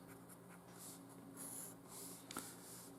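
Faint pen or pencil strokes scratching on paper while writing notes by hand, a few soft short scribbles in a quiet room.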